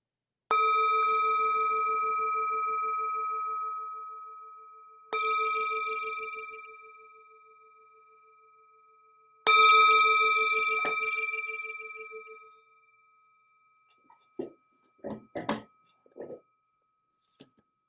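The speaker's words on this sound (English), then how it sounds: "The sound of the bell brings us back to our true home." Three struck meditation bell tones, each ringing out with a long sustained shimmer and slow decay, followed by a few soft clicks and rustles.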